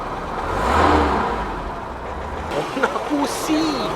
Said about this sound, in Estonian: Vot see on vanakooli mootor.